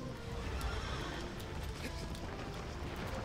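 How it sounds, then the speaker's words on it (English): Horse neighing and galloping in the Shadow of the Colossus video game, with steady hoofbeats and whinnies running through the whole short passage over a dense game soundscape. "My horse ran under me to carry me away."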